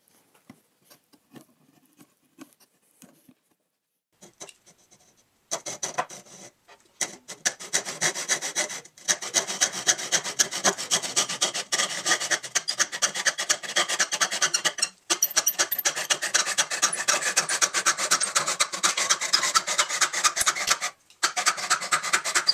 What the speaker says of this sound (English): I'm going to shave this down a bit.